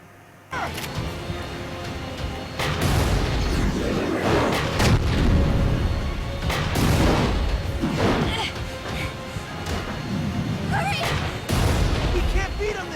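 Heavy booming blasts from a grenade launcher in Resident Evil: The Darkside Chronicles roll over a loud game soundtrack, several thuds and crashes spread across the stretch, with a voice speaking over them.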